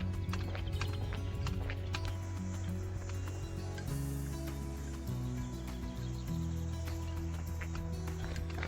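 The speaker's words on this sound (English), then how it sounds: "All right, horse is over here." Steady hooves clip-clopping on a hard surface, with a constant low rumble of movement underneath and no talking.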